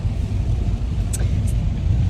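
Low road rumble inside a moving car on a long drive, a steady dull droning hum with faint brief high-pitched squeaks, no talking.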